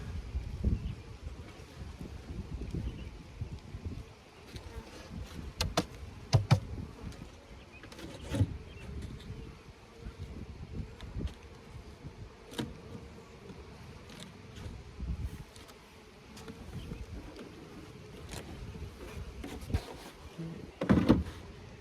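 Bees buzz around a swarm hive during an outdoor inspection, a low continuous droning hum with occasional closer passes, interrupted by scattered knocks and thumps from handling the hive, at moderate level with no talk.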